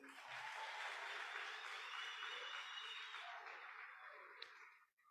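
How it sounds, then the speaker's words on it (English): School career day audience applauding, a sustained wash of many hands clapping in a hall that gradually fades out near the end. "Another round of applause, please."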